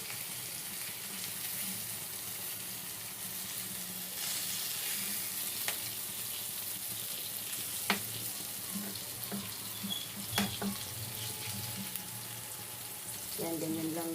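Food sizzling steadily in a pan as it browns, a constant hiss with a few faint clinks and small stirring knocks, no talking over it.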